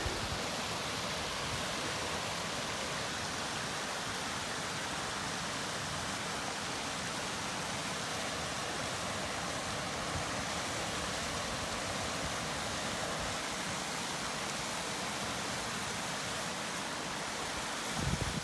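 Mountain stream on the Pacific Crest Trail, water rushing in a steady, loud broadband wash close by with no pauses.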